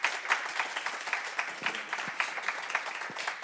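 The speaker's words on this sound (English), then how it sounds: "I now invite everyone to have a round of applause for all of the winners and runners-up today." A crowd applauds winners and runners-up at an international trade promotion awards ceremony, producing steady, moderately loud clapping of mixed individual hands, continuous and fairly even throughout.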